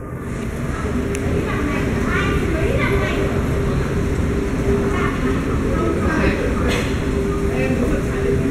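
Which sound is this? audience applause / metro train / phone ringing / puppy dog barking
metro train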